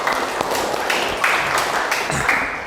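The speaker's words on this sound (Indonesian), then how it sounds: "Tepuk tangan dulu untuk kita semua" Classroom applause from students in a teaching session, a steady wash of clapping at moderate level lasting throughout, with no voices standing out.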